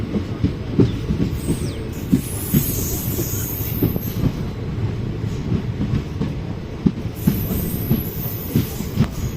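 Steady rumble of the Ranikhet Express rolling along the rails as it approaches Chomu Samod station in India, with rhythmic clicking wheel beats and occasional faint squeals, heard from on board and fairly close.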